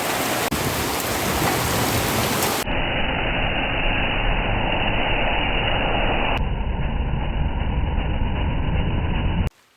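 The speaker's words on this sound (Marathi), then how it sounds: "पावसाक जोरदार सुरुवात झालेली आहे" Heavy monsoon rain pours steadily over a Konkan village, a dense, continuous hiss and patter on surfaces that holds loud and even throughout with no voices, cutting off abruptly at the very end.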